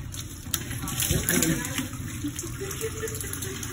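Water trickles and splashes steadily as it drains from the evaporator of a Scotsman ice machine during descaling, with a voice speaking over the flow.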